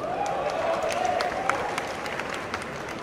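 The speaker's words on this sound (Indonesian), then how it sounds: "Tepuk tangan dulu sekali lagi." Audience applause at a comedy roast event, a steady wash of many hands clapping with scattered claps standing out, continuing throughout without pause.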